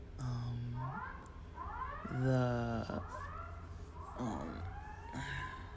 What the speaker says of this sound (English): I can't focus when they're doing weird things with the sirens.